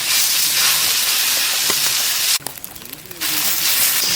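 Loud, steady hiss of egg masala and bread frying in hot oil on a pan, briefly dropping away for under a second before the sizzle resumes at full strength, close up.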